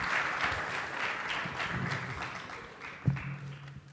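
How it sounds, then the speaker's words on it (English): Applause rises from the audience at a Gulf Business panel on the UAE real estate outlook, moderate at first and fading, with a sharp thump near the end. "I'd like for everybody just to give all our panelists a big round of applause, please."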